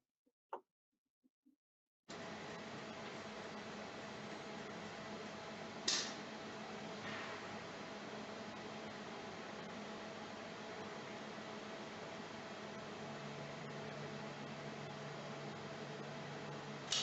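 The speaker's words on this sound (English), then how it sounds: "So since the machine automatically changes the sample," A semi-automatic laboratory machine for tire tread wear testing runs with a steady, faint mechanical hum and hiss, and a couple of brief clunks as the sample changes.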